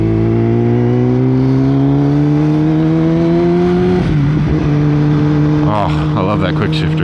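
Kawasaki ZX-10R sport motorcycle engine revving hard in rising pitch, then a quick-shifter upshift near four seconds and continued loud acceleration, with another brief shift-like change late; close and strong throughout, with no talk.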